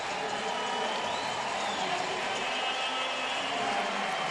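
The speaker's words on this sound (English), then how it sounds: "Well, you hear a crowd reaction here." A baseball stadium crowd at a Nationals–Tigers game roars in a broad, steady wash of noise that holds throughout, loud and distant-sounding with no breaks.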